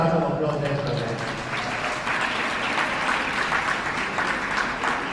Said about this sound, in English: Give Dr. Singh a nice round of applause as well, guys